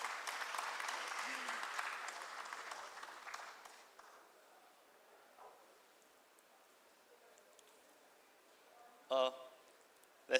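Applause from a conference audience greeting a guest invited on stage, a dense wash of clapping for about four seconds that fades to a quiet room, followed later by a couple of sharp isolated knocks.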